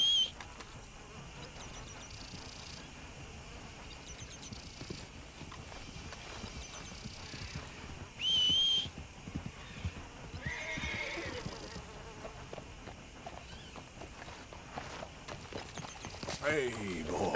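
In Red Dead Redemption 2, a horse whinnies briefly partway through over steady hoof clops and ambient game sounds, with a voice talking throughout.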